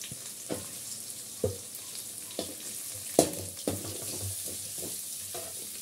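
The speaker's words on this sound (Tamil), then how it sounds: "அதுக்கப்புறம் நீங்க கட் பண்ணி வச்சிருக்க அந்த சின்ன வெங்காயம் எல்லாத்தையும் எடுத்து அதோட சேர்த்துக்கோங்க" Chopped small onions (shallots) fry with mutton in a pan, giving a steady close sizzle punctuated by several sharp spatula strikes and scrapes against the pan.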